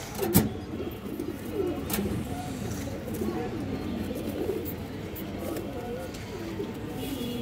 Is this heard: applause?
no